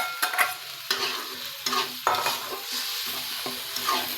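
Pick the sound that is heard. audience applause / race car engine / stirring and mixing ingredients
stirring and mixing ingredients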